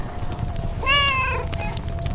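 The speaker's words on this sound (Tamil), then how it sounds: "பூனை தூங்கி எழும்பியாச்சா" A cat gives a single clear meow, close and moderately loud, over a steady background hum with no talk.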